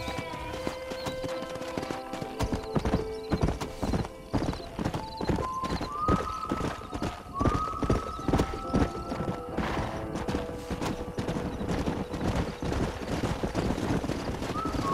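Horses in Red Dead Redemption gallop with rapid, close clip-clop hoofbeats, broken by a couple of drawn-out whinnies, with scattered background sounds and occasional voices.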